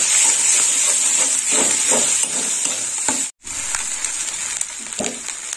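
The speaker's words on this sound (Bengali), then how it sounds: "মশলাটা ভাজা হয়ে গেছে" Garlic and ginger paste masala sizzles steadily in a pan for a brinjal and cabbage curry, with repeated stirring scrapes over the constant frying hiss and a brief break partway through.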